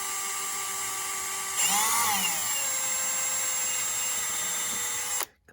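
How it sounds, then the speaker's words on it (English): A tiny drill bit bores through wood on a rifleman's knife project as a steady high-pitched drill whine that rises sharply when the bit engages, holds for several seconds, then cuts off abruptly. "drill through the wood here with the same size tiny bit, backing up some and going easy."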